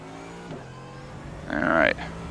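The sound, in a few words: GT3 race car engine at Spa, iRacing video game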